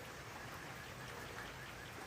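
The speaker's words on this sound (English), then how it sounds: "It's a little rainy." Light rain falling outdoors near a garden, a soft, steady hiss of drops heard alone and fairly faint, with no talking.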